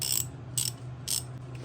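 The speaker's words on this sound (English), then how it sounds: "It's a 1/2-inch socket wrench." A 1/2-inch socket wrench ratchets in three short, crisp bursts of clicking, close and clear with no talking.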